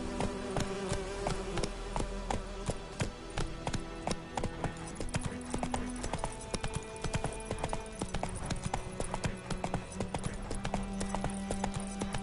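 Horse hooves clip-clop in the video game Witcher 3. A steady, even rhythm of hoof beats carries through the whole stretch alongside a continuous buzzing, insect-like ambience.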